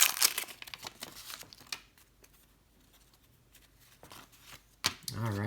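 Crinkling foil wrapper of a 1989 baseball card pack being torn open, a burst of crackly ripping at the start, a quiet stretch, then more rustling near the end before a voice comes in.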